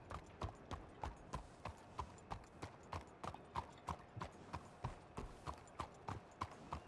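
Horses' hooves clip-clop in a Wild RP video game, a steady, fairly quiet rhythm of evenly spaced hoof strikes running without talk.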